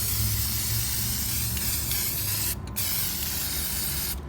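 Aerosol spray paint hisses steadily as the first coat goes onto upside-down containers for a trash-to-treasure craft, one long continuous spray with two brief pauses near the end, close and loud.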